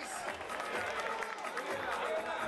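Crowd applause and cheering for a batter at a baseball home run derby in Venezuela, a steady broadband wash of clapping over about two seconds with a sports announcer's voice running underneath.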